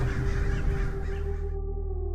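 Many American crows caw together in a dense, continuous chorus from a huge night roost, loud and nearby, before the sound cuts off abruptly.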